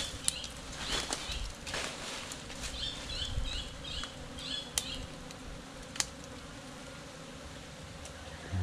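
Honeybees buzz around a splitting swarm, their faint whirring drones rising and falling in clusters, with scattered clicks and taps nearby and no voices.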